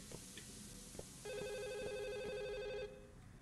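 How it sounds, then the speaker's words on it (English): A telephone in the video game Firework gives one sustained electronic ring burst over faint background ticks, then falls quiet again. "Yes, the phone's ringing."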